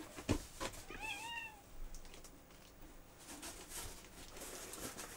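Pet cats meow in a short run of rising and falling calls near the start, close and fairly clear, then fade behind faint background noise and soft clicks.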